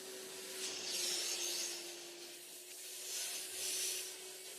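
Vacuum extractor pulling fluids from a car seat during interior detailing: a steady whine with a faint tone under a hissing, rubbing suction noise that swells and eases as the nozzle passes over the fabric, close up.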